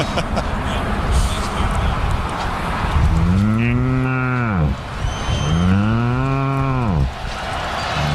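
Two long, loud cow moos, each rising then falling in pitch, sounding one after the other over the steady noise of a college football game broadcast with crowd in the background.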